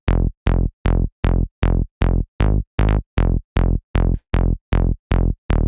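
Serum synth bassline from the Offbeat Bassline 1 preset in a bouncy trance style, a steady run of short, punchy, evenly spaced bass plucks that repeat alone in a tight rhythm.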